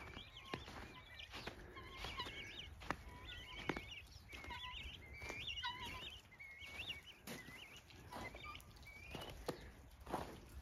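Repeated harsh, rhythmic calls from guinea fowl carry faintly across a quiet outdoor space, with occasional thumps and rustles.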